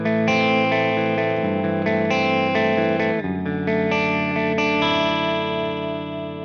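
A heavily distorted electric guitar lead tone through a Mark III amp plays sustained, harmonically rich notes with effects, loud and continuous, with no voices.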